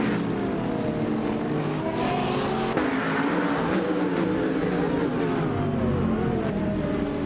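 Race cars roar continuously in a competitive race, a dense steady engine drone at close range that holds loud for the whole stretch with no talk over it.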